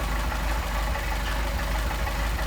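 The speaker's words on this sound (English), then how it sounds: "hear the difference in the way the engine runs" A Mercedes 190SL engine with Solex carburetors idles steadily nearby, a continuous low rumble with faint rhythmic pulses, heard during idle mixture adjustment with no voices.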